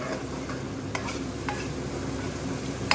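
Extra base gravy being stirred into a BIR-style curry in a pan, giving a steady low sizzle with soft scraping stirs and a couple of sharp utensil clicks, close and continuous with no talking.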